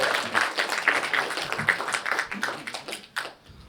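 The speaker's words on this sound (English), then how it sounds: "Big cheer. Big cheer." Studio audience at a comedy panel show claps and cheers in a lively burst of applause, with sharp hand claps loud at first, then thinning and fading out toward the end.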